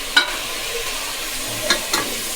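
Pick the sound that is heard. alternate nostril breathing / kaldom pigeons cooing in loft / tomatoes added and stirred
tomatoes added and stirred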